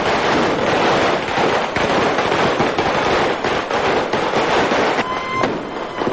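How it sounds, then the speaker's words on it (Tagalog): New Year's midnight fireworks and firecrackers going off all at once across Tondo, Manila, a dense continuous crackle of overlapping bangs, loud and unbroken throughout. "Ang buong Tondo, sabay-sabay nagpaputok."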